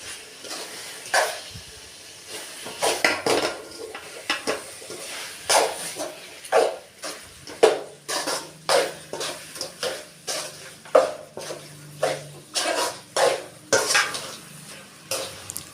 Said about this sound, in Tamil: சிக்கனை ஆட் பண்ணி நல்லா கிளறி விட்டுக்கோங்க